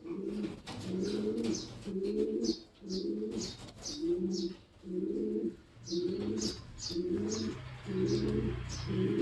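A medium-sized, round-bodied pigeon hen coos in a loft, a steady series of soft, close, rhythmic coos repeating about once a second, alone with no voices.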